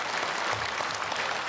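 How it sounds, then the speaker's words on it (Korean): A church congregation at a Sunday worship service applauds the choir, a brief, full, even burst of many hands clapping that fills the large room without pause. "박수로 축복하겠습니다."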